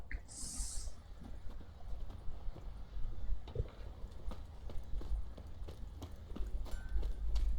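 Hooves of a horse clip-clop at a walking pace in The Witcher 3, a soft irregular series of near thuds over low ambient rumble, with a faint high chime near the start.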